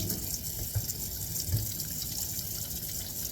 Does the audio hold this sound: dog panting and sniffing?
no